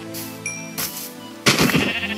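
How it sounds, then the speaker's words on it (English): A Minecraft sheep bleats in a survival world, two short nasal cries in quick succession, close and clear with no talking over them. "Ooh, sheep, we need wool."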